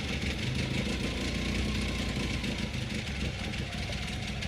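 A Mini Cooper S with a 1298cc short-stroke engine runs at a hill climb, giving a loud, steady, buzzing engine drone that holds roughly constant throughout, with no voices.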